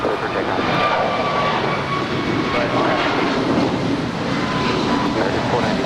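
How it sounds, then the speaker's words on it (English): A brand-new American Airlines Airbus A321neo, flight 497, takes off from Los Angeles LAX bound for Philadelphia. A continuous, fairly loud jet roar rumbles throughout with a faint whine on top, and a voice talks over it. "That is American Airlines 497 departing to Philly. Brand new Airbus A321 Neo."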